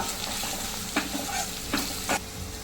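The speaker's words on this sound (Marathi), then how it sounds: "आता हे चांगलं परत परतून घेऊया" Onion-green spices with chilli powder, garam masala and coriander-cumin powder are stir-fried in a pan for zunka, a close sizzle broken by several scraping strokes of a spoon at an uneven pace.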